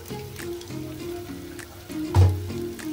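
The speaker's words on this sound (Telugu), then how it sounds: "అల్లం పేస్ట్ పచ్చి వాసన పోయే వరకు వేయించుకోవాలి" Ginger paste fries in a pan for a fish curry, a soft, quiet sizzle with faint scattered crackles and a brief louder stir-like thump near the end.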